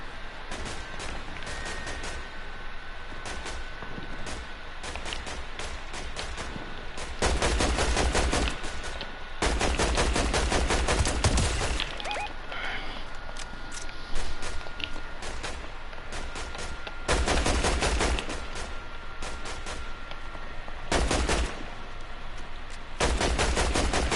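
Video game gunfire in repeated bursts of rapid automatic shots, loud and close, separated by short gaps over a constant background of battle noise, with no speech.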